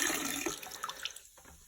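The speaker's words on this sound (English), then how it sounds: "you're gonna load it up with some antifreeze, decent amount. So go ahead and just do a half gallon in" About a half gallon of antifreeze is poured into a toilet bowl during a plumbing shutdown, giving a faint, splashy liquid pour that thins out and fades toward the end.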